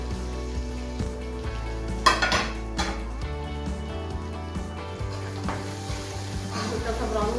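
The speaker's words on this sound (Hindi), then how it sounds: "अब हम इसको अच्छे से हिला लेते हैं और हम इसको हिलाने के बाद इसको कवर कर देते हैं" Black chickpeas sizzle steadily as they fry in a pan with spices, while a spoon stirs them with occasional scrapes and clinks against the metal, close by.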